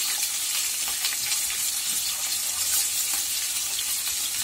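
Long-cut potato slices with salt fry in a pan and get stirred around, a continuous close sizzle with soft scraping and shuffling from the stirring throughout.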